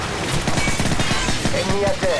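Rapid automatic gunfire from Call of Duty 4 rattles in a dense, steady stream of close shots, with a voice speaking over it.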